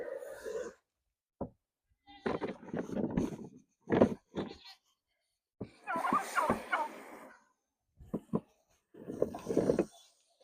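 Farm animals call in bursts during morning chores where turkeys and goats are kept: scattered bleats and gobble-like squawks, close and intermittent with silent gaps between them.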